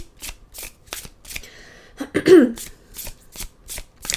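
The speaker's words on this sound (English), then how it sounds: "We'll pull some oracle cards, close out your reading." A deck of oracle cards is shuffled by hand in a series of crisp, rhythmic riffling bursts, close up, with a brief throat clearing midway.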